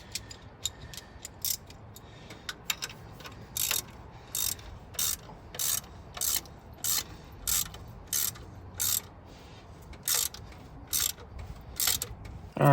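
Quick ratcheting clicks come in short bursts, a wrench cranking an exhaust bolt in repeated strokes at close range.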